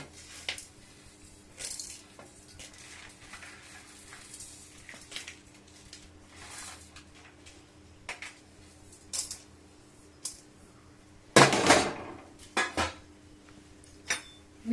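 Peanuts, chana dal, urad dal and cumin seeds frying in a pan for a curry leaf and drumstick leaf powder, with scattered metallic scrapes and clinks of a spoon stirring, one louder clatter near the end, and no voices.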